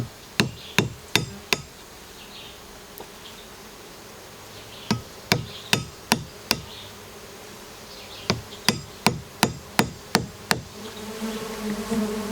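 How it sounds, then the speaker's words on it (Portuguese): Manda-saia Melipona stingless bees swarm around their opened nest, making a soft, constant buzzing. Loud, sharp taps cut through it in quick runs of four to seven strikes. "A manda-saia, ela tem essa característica de ficar fazendo essa revoada bem intensa"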